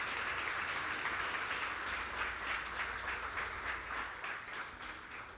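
A church congregation applauds together in praise, a full, continuous wash of clapping that stays steady and gradually fades slightly toward the close.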